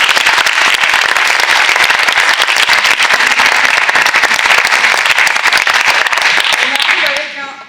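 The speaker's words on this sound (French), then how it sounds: "Je crois qu'on peut les applaudir pour ces..." Dense, loud audience applause for guests at an innovation conference, a thick wash of clapping hands that holds steady before tapering off at the very end.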